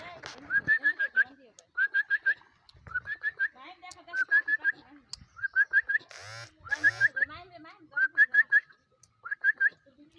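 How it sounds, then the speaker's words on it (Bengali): A pet parrot perched on a tree root in a village, giving repeated clear whistling calls in short rhythmic bursts, close and prominent, with a person talking softly underneath. "নিশ্চয়ই এটা কারো পালিত পাখি"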